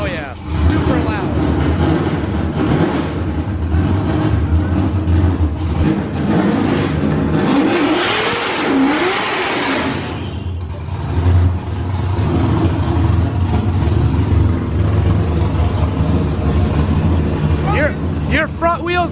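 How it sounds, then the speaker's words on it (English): Drift car doing a burnout in an enclosed space: a loud engine revving hard and holding high revs with tire roar and screech, surging again in the middle, while people talk over it nearby. "So we're going to try and do a burnout in here."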